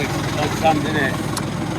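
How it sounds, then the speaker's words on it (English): A sailboat's engine idles near Taormina, Sicily, giving a steady low rumble that stays even for the whole short stretch, with faint higher sounds over it. "I'm gonna turn the engine off, Chris."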